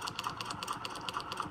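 A sewing machine stitches along a quilt seam line, a quiet rapid mechanical chatter with a regular pulsing rhythm, close by and alone.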